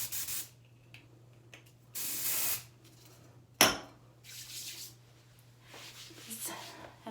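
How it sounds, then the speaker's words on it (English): Two hissy bursts of aerosol spray, the first longer and steady, the second shorter, with a sharp click between them and faint rustling around. "I'm gonna spray it with some finishing spray."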